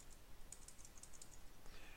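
Typing on a computer keyboard while working in Word, a quick run of soft key clicks over faint background hiss, close and low in level.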